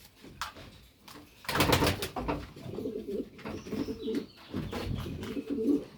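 Pigeons coo repeatedly inside a breeding loft, several rolling calls close by and fairly loud, with a few sharper wing or door knocks between them; one old 2014 bird is in poor condition.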